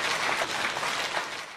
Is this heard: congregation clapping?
yes